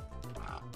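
A giant pig oinks in the Reaper: Tales of a Pale Swordsman video game, a couple of short grunting snorts over a continuous game music bed.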